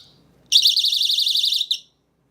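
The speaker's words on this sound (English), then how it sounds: "This is supposed to be so that if somebody snatched my thing, it's not even working. It's supposed to be alarm." Personal anti-theft alarm emitting a shrill, rapidly warbling electronic tone that bursts on abruptly, holds loud for just over a second, then cuts off, with quiet background before and after.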